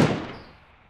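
A single loud, close gunshot in the battle royale game PUBG Mobile: a sharp, bassy crack that decays into a fading tail within a second.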